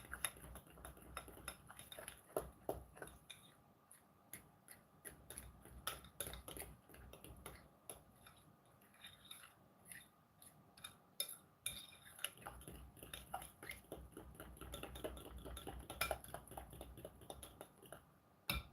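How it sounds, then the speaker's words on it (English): A spoon and a fork clink and scrape repeatedly against a bowl while mixing banana fritter batter, a quick irregular run of small metallic taps, close and fairly faint. "But I had to use a spoon and a fork."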